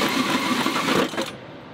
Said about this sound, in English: Don't press too hard on it, like don't put too much force on the hole saw.